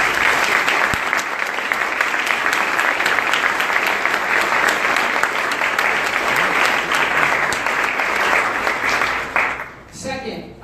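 Audience applause at the OneWorld 2018 event, a sustained wash of clapping from a large crowd that holds steady and then tapers off near the end.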